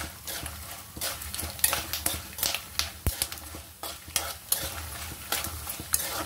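Lentils and asafoetida frying in oil for a sesame pulihora tempering, a close sizzle broken by frequent rhythmic stirring scrapes and clinks of a spoon against the pan, no voices.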